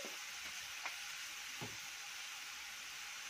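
Garlic frying in a pan with salt and pepper, cooked to a light golden color, gives a steady quiet sizzle with a few soft stirring scrapes and no talk.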